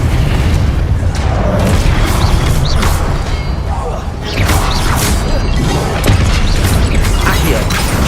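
Confringo fire spell exploding in the Hogwarts Legacy video game, loud repeated booming blasts and crashes in dense combat noise, with a voice shouting spell names over it.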